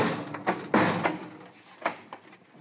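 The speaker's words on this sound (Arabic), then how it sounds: "خبط يا ابني وخلص" Someone knocks on a house door: a few loud, close raps spaced unevenly over a couple of seconds, with no voices.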